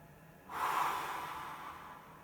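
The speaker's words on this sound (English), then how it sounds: "in through the nose, filling the whole cavity here, and out through the mouth." A single slow breath taken during a breathing exercise, in through the nose and out through the mouth, starts abruptly as a close, airy rush that swells and then fades steadily, with no talking.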